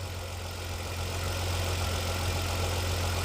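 Close, steady idle from a 2009 Hyundai Genesis BH 380 sedan with 180,000 km on it, a smooth, even low hum that holds constant for several seconds with no talking.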